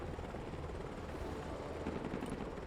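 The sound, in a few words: helicopter flying in video game Broken Arrow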